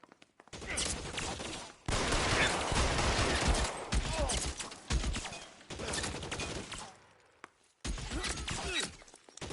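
Dense bursts of gunfire in the crime game L.A. Noire, rapid shots in dense volleys broken by short pauses, with game voices mixed in.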